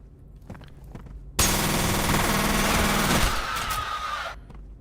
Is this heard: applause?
no